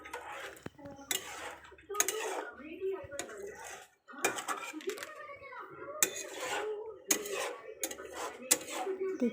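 Chicken curry stirred in a cooking pot, with repeated metallic scraping and clanking of a utensil against the pot in irregular bursts, and a voice talking intermittently underneath.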